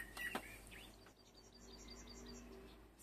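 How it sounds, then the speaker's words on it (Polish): Birds sing outdoors on a walk through nature, with a few faint chirps and a thin trill over soft ambient hiss and a quiet, steady insect-like buzz. "Nawet teraz chyba słychać ptaki,"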